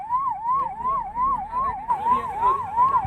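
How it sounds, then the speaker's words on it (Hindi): A wailing ambulance siren sweeps up and down in quick, regular cycles, loud and close, with traffic rumbling underneath, arriving behind a protest hunger strike. "ये पीछे से एम्बुलेंस आ रहा है"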